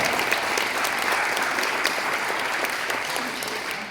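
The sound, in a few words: audience applause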